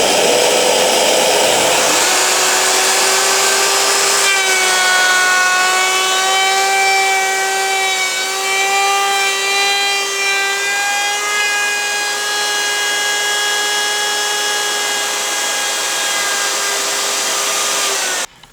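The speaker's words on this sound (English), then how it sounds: "repeat the cut using this other router that has a dovetail bit mounted into it" A router fitted with a dovetail bit cuts slots in wood. Its loud, close motor whine rises and holds a steady high-pitched scream under load for over fifteen seconds, then cuts off abruptly.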